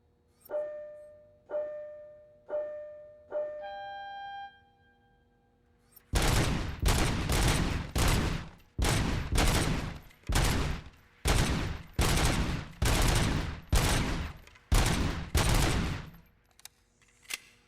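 Pistol fire in the PC shooter RoboCop: Rogue City: a few soft menu tones give way to a long string of loud, closely spaced gunshots in rapid bursts with brief gaps, no talk over them.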